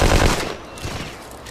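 Gunfire in the World War II shooter game Hidden and Dangerous 2, a short dense burst of automatic fire that is loud at the start and then fades into a rumbling echo.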